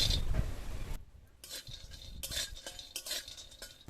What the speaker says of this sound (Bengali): গরম কড়ায় চীনা বাদাম দিয়ে ভেজে নেব